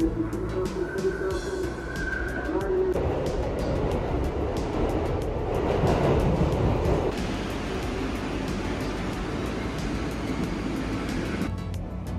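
A New York City subway train rumbles along with a steady roar and rattling, metallic squeals and clatter rising and fading as it runs, fairly close.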